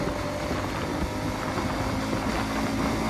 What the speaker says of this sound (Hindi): ये वाली तो काफ़ी ज़्यादा मिसिंग कर रही है, काफ़ी ज़्यादा मिसिंग मार रही है ये वाली